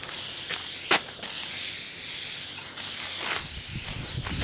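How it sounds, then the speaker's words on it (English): Hissing bursts of a WD-40 aerosol spray can onto a wooden table saw cross cut sled board, a few short squirts and one longer spray, close by with no talking. "I'm just going to spray some WD-40 on it too"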